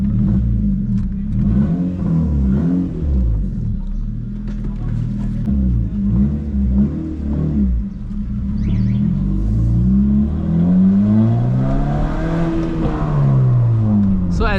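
A 2007 Honda Civic with a 1.8 i-VTEC engine is driven and revved hard, its loud engine note rising and falling with climbing revs inside the cabin as someone talks over it.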